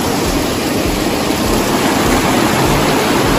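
Bhagsunag waterfall sends icy mountain meltwater crashing down in a loud, constant roar of rushing water that fills the whole stretch without a break.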